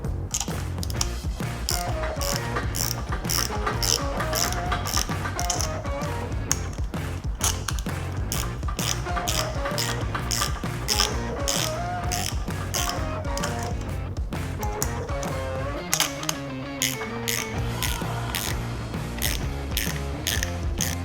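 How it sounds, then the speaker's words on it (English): A ratchet wrench clicks rapidly and continuously while tightening nuts on the split rim of a VSETT 9 scooter during solid tire installation, close and steady with brief pauses. "we're going to make sure to tighten each of these nuts evenly to push the rim down"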